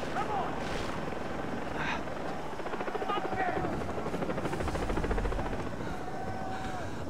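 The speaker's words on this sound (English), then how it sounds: "Watch the chopper carefully." A helicopter in the video game Far Cry 3 flies close by with a loud, continuous rotor chop and engine drone, joined by wind and water-like ambience and brief tonal game effects.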